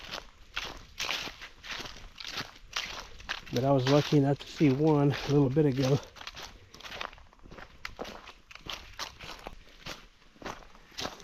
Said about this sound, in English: you can hear how crunchy these leaves are